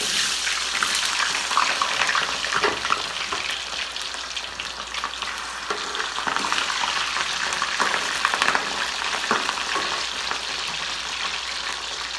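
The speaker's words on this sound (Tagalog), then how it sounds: "Init ang mantika, lagyan na natin yung patatas." Potatoes frying in hot oil for menudo, a loud, dense, continuous sizzle and crackle close up, with a few soft scrapes, and nobody talking.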